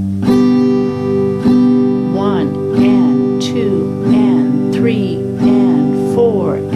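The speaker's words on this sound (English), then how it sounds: "we can do what's called a boom chop strum, and it sounds like this." Boom chop strumming on acoustic guitar: a thumbed bass note followed by a brushed chord chop, repeating in a steady alternating pattern about five times, close and clear with no talking.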